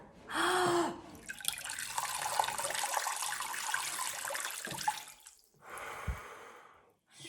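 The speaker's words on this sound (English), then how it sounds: "I'm going to pour the water over your face." Water poured over a face during a beginner swimming lesson: splashing, dripping bursts, a long trickling pour, then another short splash, with breaths between, close up.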